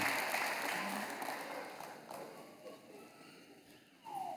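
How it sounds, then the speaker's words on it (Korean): Congregation applauding in a church after infant baptisms, a soft, fairly distant patter of clapping that tapers off, with faint voices near the end. "교우 여러분들은 큰 박수로 환영하시기를 바랍니다."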